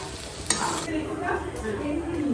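Food being stirred and mixed in a hot pan after salt and sugar are added, a steady close scraping and sizzling texture that continues throughout with a sharp clink near the start, no voices.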